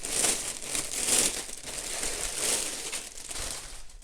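Plastic packaging crinkling and rustling close up as an Xbox Series X Launch Edition hoodie is unboxed, with bursts of crumpling rising and falling over several seconds.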